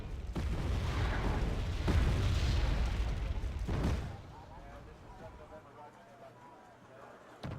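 Artillery fire hitting a BTR armoured vehicle in a video game, heard as dense rumbling blasts with a few sharper impacts, loud for about four seconds before fading to a quieter tail.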